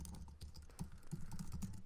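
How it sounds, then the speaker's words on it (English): Soft clicking of keys on a computer keyboard while text is entered into an After Effects composition, a quiet, steady patter of keystrokes heard alone. "and then typing"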